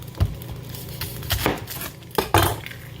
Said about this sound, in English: Gonna cut up my onion.